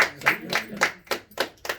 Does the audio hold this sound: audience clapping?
yes